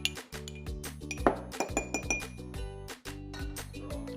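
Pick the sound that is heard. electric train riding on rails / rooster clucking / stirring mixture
stirring mixture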